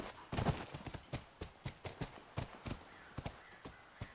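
Horse hooves clip-clop in a steady walking rhythm in The Last of Us, a run of sharp, distinct strikes at close range that carries on throughout with no talk over it.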